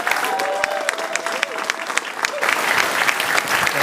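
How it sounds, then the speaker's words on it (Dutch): A Dutch lecture audience applauds the director of Charge at the first Charge lecture. Steady, dense clapping fills the room throughout and swells slightly near the end, with a few voices audible beneath it. "Ik wil heel graag een heel groot applaus voor de directeur van Charge,"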